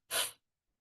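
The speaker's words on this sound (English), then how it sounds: "Wait, I want to sneeze." A single short, sharp sneeze close to the microphone, followed by silence.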